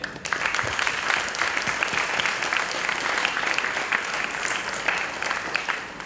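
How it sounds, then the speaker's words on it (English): Sustained audience applause for three lecture presenters, a dense wash of clapping from a sizable crowd that stays steady and fairly loud for the whole stretch without any talking over it. "give one more applause for our three awesome presenters today."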